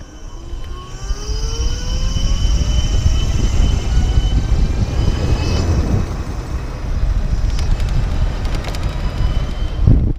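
A Voltbike Metro Plus electric scooter ridden at full throttle, a steady loud rush of wind and motor whine with faint rising tones running the whole way.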